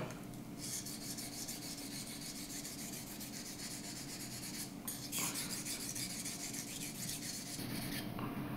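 A hard knife is sharpened on a Naniwa Jumbo whetstone, giving quiet, continuous rasping strokes of steel grinding over the wet stone at close range, with brief pauses between passes and no speech.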